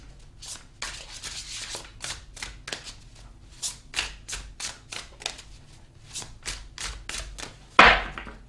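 Tarot cards shuffled by hand in a quick series of soft riffling snaps and slides, fairly close and clear, ending in a brief louder thump as a card is pulled near the end; no talking.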